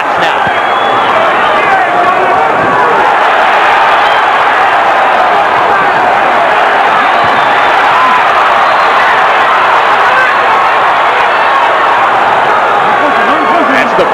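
A packed arena crowd roars steadily through a George Foreman versus Michael Moorer boxing match, a dense, loud and unbroken wall of cheering that swells but never drops away across the whole stretch.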